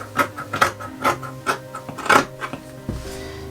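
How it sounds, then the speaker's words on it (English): Scissors cutting through woven fabric on a table, a series of crisp close snips and rustles in an uneven rhythm, with no talking. "I'm simply just going to cut."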